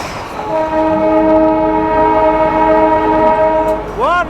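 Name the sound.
Darjeeling toy train running on the round railway loop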